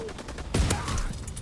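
Blunderbuss shotgun fire in Call of Duty WW2 from a building position: one sharp, loud blast at mid-clip with faint gunfire around it in a busy match.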